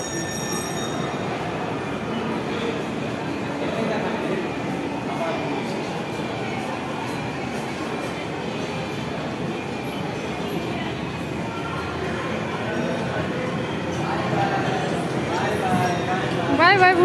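Steady rumble of a train running on rails, heard from inside a moving carriage, continuous and moderately loud with a brief squeal near the end.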